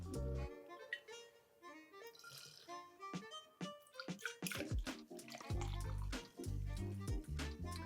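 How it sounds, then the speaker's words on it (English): Whistle Pig 10 rye whiskey is poured straight into a bottle, a close, quiet liquid trickle with drips and small clinks, over soft background music. "And again, pour it straight into the bottle."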